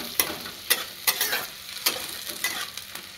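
Chopped onion frying in a pan: close, crackling sizzle punctuated by repeated spatula stirs and scrapes roughly every half second, with no speech.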